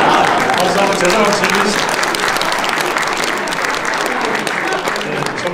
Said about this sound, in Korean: 박수 한번 제대로